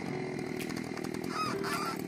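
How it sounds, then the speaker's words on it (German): A chainsaw in a video game drones steadily, a harsh buzzing motor held at an even level for a couple of seconds, fairly quiet in the mix. "So, Kettensäge hier."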